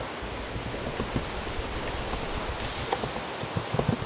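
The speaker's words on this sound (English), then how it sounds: "Oh, it's raining." Steady rain in the video game Minecraft, a constant hissing patter filling the whole clip at moderate level, with scattered faint ticks and no talk over it.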